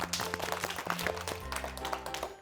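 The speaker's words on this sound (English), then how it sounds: "Let's clap hands for him," A group of children clap their hands in a quick, uneven burst of close, dense claps lasting a couple of seconds.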